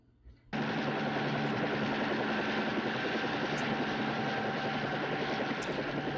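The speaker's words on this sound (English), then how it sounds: "Can't help but feel that these helicopters were the scariest." Helicopters from the 1951 film When Worlds Collide start abruptly and hold a loud, steady rotor and engine drone with a rapid chopping texture, continuous to the end.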